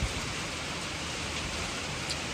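Heavy rain pours down over a flooded farm, a dense, steady hiss of drops drumming on surfaces without pause, close and loud with no voices.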